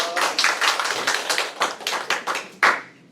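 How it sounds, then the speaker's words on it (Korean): An audience at a civic lecture claps in a brisk burst of applause welcoming a speaker, dense and close, tapering off after about three seconds. "최준원 대표 박수로 맞이해 주시죠"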